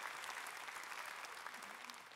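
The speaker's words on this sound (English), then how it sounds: "Come on, put your hands together for that" A church congregation applauds during a sermon on water baptism, a steady, dense wash of clapping filling the whole stretch at moderate loudness with no pause.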